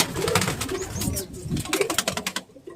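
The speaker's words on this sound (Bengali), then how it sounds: "প্রত্যেকটা পায়রাই হচ্ছে উড়ান পায়রা" Flying pigeons from a home loft, soft repeated throaty coos rising and falling in short bursts close by, with a few faint wing flutters and no talk.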